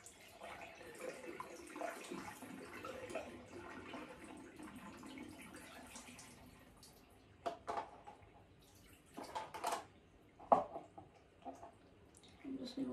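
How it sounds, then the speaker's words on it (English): A tap runs to rinse an Invisalign aligner tray at a bathroom sink, giving a soft continuous trickle with splashy bursts later on, while a person talks quietly over it. "just need to rinse it a little bit of water"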